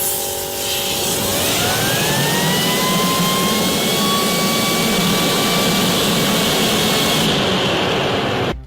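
A jet engine runs loud and close, its high whine sweeping upward and settling into a steady roar over a broad rumble before cutting off abruptly at the end.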